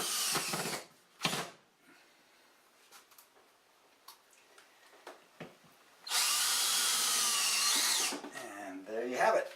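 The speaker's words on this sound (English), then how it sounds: "I'm just going to put a couple more screws in to mount the plate to the plywood" Power drill driving screws to mount a metal plate onto plywood during a laundry ozone generator installation, with a short burst early, then a long steady whirring run and a final spin-down, close and loud.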